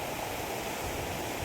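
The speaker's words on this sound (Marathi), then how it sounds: "आणि हा असा ओढा आहे." A stream in Lahulse village near the Savitri river, Konkan region, flowing as a steady, close, broadband rush of water that carries on unbroken with no speech.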